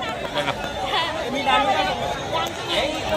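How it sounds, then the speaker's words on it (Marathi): Dense crowd chatter fills a busy village fair, the Mhasa jatra, with many overlapping voices forming a constant, loud babble close around, with no single voice dominating. "बघा गर्दी बघा मित्रांनो खूप झालेली आहे."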